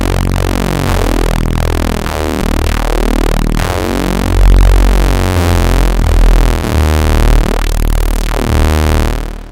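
Korg Polysix analog synthesizer played through a notch filter, a dense, sustained buzzy chord tone with sweeping comb-like filter movement and several swelling accents across nearly ten seconds, loud and continuous with no talking.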